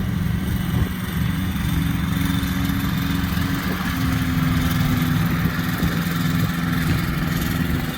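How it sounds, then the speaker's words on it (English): A training aircraft's engine at the Angular City Flying Club in Pampanga, Philippines drones steadily and loudly with a low, buzzing rumble throughout, and no one speaks. "This is a proper training aircraft"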